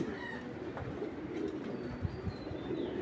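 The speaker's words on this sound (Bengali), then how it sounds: "মনে করেন এরকম একটা কবুতর" Pigeons at a farm keeping hundreds of birds coo softly and steadily, the low calls blending into a continuous murmur with faint chirps.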